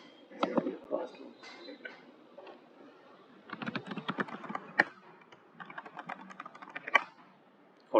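Someone types a password on a computer keyboard during a Linux login, giving soft bursts of key clicks with short pauses between them, fairly quiet and close.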